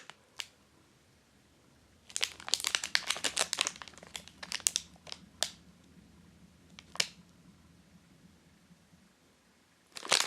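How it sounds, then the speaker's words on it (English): Close-up crinkling of a clear plastic bag as chocolate truffles are tipped out, a busy burst of rustles and crackles, then a few scattered crinkles with quiet gaps between. "let's tip that clear plastic bag of truffles out to give you a much closer look at its details"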